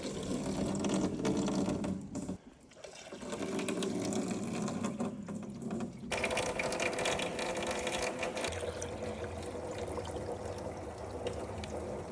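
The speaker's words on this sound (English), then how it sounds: "Let's get this sap in the barrels." Maple sap pours steadily into barrels at an off-grid cabin, a continuous loud rush of liquid with a brief dip partway through, then a sustained gurgling flow with no speech.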